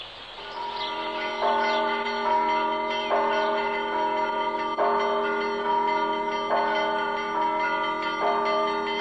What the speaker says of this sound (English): Sister Vera rings the bells at the Russian Orthodox Gorny Monastery.